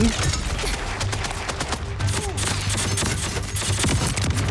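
Rapid SMG fire in the video game Borderlands 4 rattles in dense, continuous bursts throughout, with game effects layered underneath.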